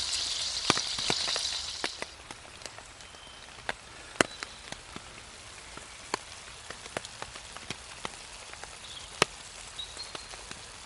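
A steak frying slowly on an alcohol stove while wild camping, a soft, steady sizzle broken by scattered sharp pops and spits, heard close up and fairly quiet.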